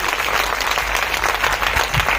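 Full, sustained clapping from a seated audience at a talk on married life, close and continuous for the whole stretch with no speech over it.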